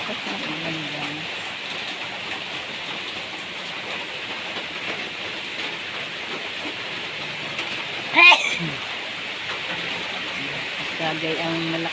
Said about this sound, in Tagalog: Sobrang lakas ng ulan, guys.